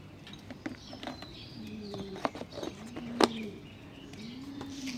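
Soft, low cooing hums of doves on a rooftop drift in the background among faint chirps and a few sharp clicks, moderately distant and fairly quiet.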